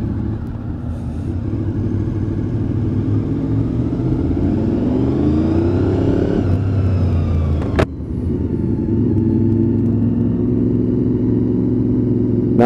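A Honda VFR 800 motorcycle engine revs up close and loud, its tone climbing steadily to a peak, then dropping with a sharp crack before it settles back into a steady high drone.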